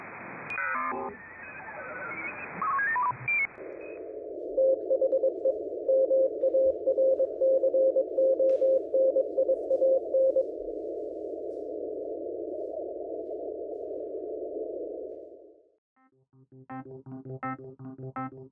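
Morse code sidetone from the Morse-it app on an iPhone or iPad, keyed with a CW key: a steady electronic tone runs for about eleven seconds after a burst of noisy sound, then short pulsed keying follows, clear and loud.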